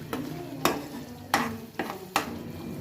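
A spoon knocks and scrapes about five times in a pot of homemade tomato pickle bubbling in plenty of oil, with a soft sizzle running underneath each stroke, close and moderately loud.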